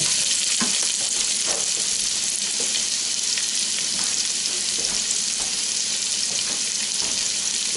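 Chopped yellow onion frying in a pot for an Irish stew gives a loud, steady, close sizzle that runs throughout, broken by occasional soft stirring clicks and scrapes.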